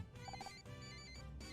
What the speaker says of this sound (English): Ringing phone.